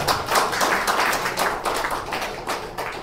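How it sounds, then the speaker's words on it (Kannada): An audience claps steadily at a felicitation ceremony in Udupi as a memento is presented, dense continuous applause filling the hall without a pause, fairly loud and close. "ಜೋರಾದ ಚಪ್ಪಾಳೆ."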